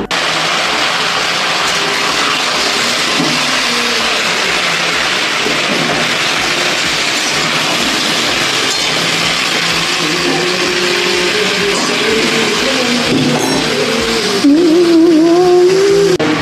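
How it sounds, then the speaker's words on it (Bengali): Vegetables fry in hot oil in a kadai over a tempering of panch phoron, cumin, dried red chillies and bay leaf, giving a loud, continuous hissing sizzle that stays steady throughout. "এবার আমি সবজিগুলো দিয়ে ভেজে নেব।"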